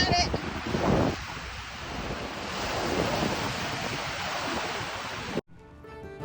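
Waves washing onto a Lake Ontario beach with steady wind buffeting the microphone, a broad continuous surf roar that stays loud and close before cutting off abruptly near the end.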